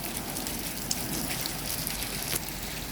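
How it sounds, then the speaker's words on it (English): Rain pours into a backyard garden with a pomegranate tree, heard through an open sliding door as a constant close hiss of drops pattering on surfaces, with no talking. "I love the sound of rain."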